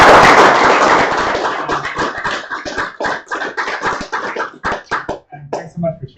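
An audience gives a round of applause that starts as a dense burst of clapping, then thins into scattered individual claps before dying away. The clapping is fairly close and loud.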